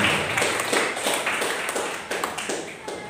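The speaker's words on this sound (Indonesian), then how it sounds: "Tepuk tangan buat Tuhan Yesus." A church congregation claps for Jesus in steady, rhythmic applause that fills the room, loud and close, lasting a few seconds, with no voices over it.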